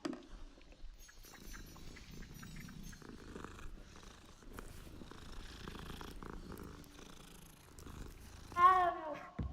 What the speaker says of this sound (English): Cute kitty.